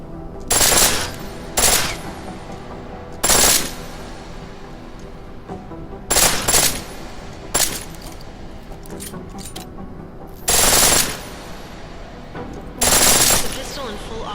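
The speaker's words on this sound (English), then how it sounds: "The pistol in full auto will take down targets fast, but it'll burn through your ammo" Full-auto pistol fire in Deus Ex: Mankind Divided, coming as several short, loud bursts spaced a few seconds apart, with quieter game ambience in the gaps between them.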